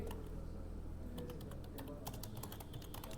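Typing on a computer keyboard during a data entry lesson in MS Word, with quiet, rapid key clicks in irregular bursts over a low steady hum, close and faint.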